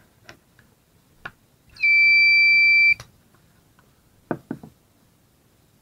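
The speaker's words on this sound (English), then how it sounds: "Now let's unplug it." A homemade power outage alarm sounds after being unplugged from an extension cord, a loud steady electronic beep lasting about a second amid faint handling knocks before and after.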